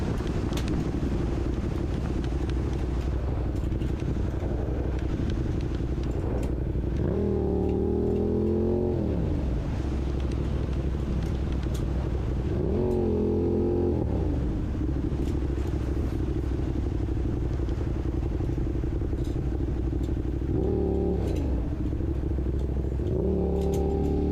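A motorcycle ridden through the streets of the Bronx in New York City revs and accelerates in several rising bursts over a steady engine drone and rushing wind noise, close and loud.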